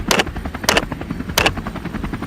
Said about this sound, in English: Gunfire erupted in rapid bursts.